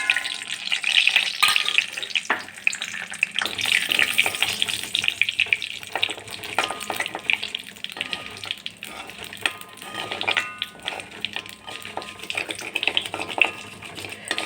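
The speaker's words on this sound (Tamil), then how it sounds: "கடுகு பொரிஞ்ச உடனே" Mustard seeds sputter and crackle in hot oil in a pan on the stove, a dense, continuous fizz dotted with sharp pops, heard close with no talking.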